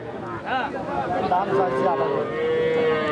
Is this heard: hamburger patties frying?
no